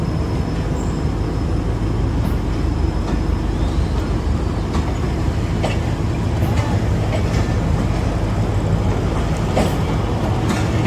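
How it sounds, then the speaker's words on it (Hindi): Rehman Baba Express pulled by locomotive HGMU 38-216 departing Toba Tek Singh railway station, a steady loud rumble of engine and rolling wagons throughout with faint wheel clatter and no talk. "रहमान बाबा एक्सप्रेस टोबा टेक्सिंग रेलवे स्टेशन छोड़ रही है"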